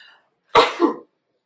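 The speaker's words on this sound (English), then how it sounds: "I'm gonna sneeze." A single short, explosive sneeze bursts out sharply, close and alone in otherwise quiet surroundings.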